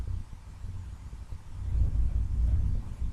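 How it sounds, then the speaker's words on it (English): Gusty wind buffets the microphone outdoors, a low rumbling roar that swells and eases, strongest in the second half, with no voices. "that noise you can hear now is the wind"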